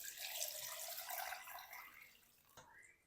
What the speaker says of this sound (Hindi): चलिए अब हम ना इसके अंदर शामिल कर देते हैं पानी।